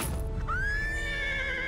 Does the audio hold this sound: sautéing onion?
no